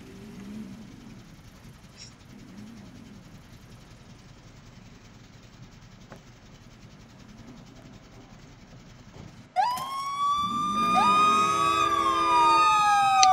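Ambulance siren in the Brick Rigs video game bursting in loud after a stretch of low engine rumble, with rising and falling wails layered over each other and continuing steadily to the end.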